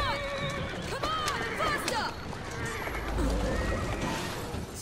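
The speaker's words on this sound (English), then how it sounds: "Come on, random horse I found on the street." In Assassin's Creed Syndicate, a horse on a city street whinnies loudly in a wavering call and snorts, while hooves clip-clop and scrape beneath it. The sounds are near and prominent.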